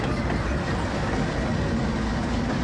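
A freight train hauled by Union Pacific and CSX diesel locomotives (an EMD SD70M and GE units) rumbles past up close in Jacksonville, a dense continuous roar of engines and rolling wagons with no break.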